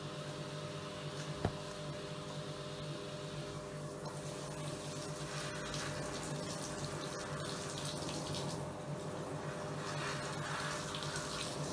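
Tap water running steadily into a sink while hair dye is washed out, a constant close rush with a single brief knock near the start and no talking.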